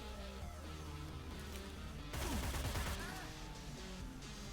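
Full-auto gunfire in the tactical video game Cyber Knights: Flashpoint: a dense burst of rapid shots erupts about halfway through, over a steady bed of game music and ambience.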